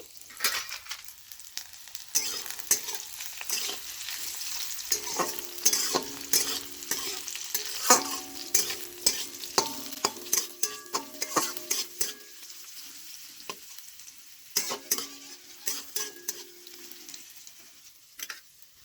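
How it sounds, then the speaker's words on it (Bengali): Potato and pointed gourd frying in oil with tempering spices, a soft continuous sizzle broken by repeated sharp scrapes and clinks of a spatula stirring in the pan, close and fairly quiet with no talking. "আমি ফোড়ন দিয়ে তেলে আলু পটল ভেজে নিচ্ছি"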